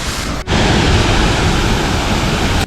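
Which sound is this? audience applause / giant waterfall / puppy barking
giant waterfall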